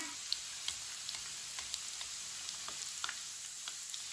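Kabab frying in oil, a soft steady sizzle with scattered small pops and crackles, close and fairly quiet with no voices.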